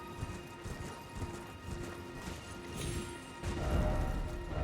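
Hoofbeats of Torrent, the spirit steed in Elden Ring, a quick clattering gallop with scattered impacts over a dense game soundscape, growing heavier toward the end.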